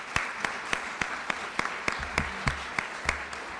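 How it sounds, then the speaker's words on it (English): Audience applause at a city court judge's swearing-in ceremony, a steady patter of clapping across the whole stretch with a few sharper claps standing out, moderately near and without voices. "Round of applause for Jim."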